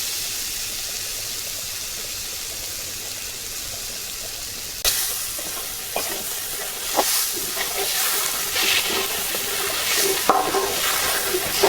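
Food fries in a pan for a dal chochori, a quiet low hiss at first, then a sharp jump to louder sizzling with scraping stirring clatter and small knocks.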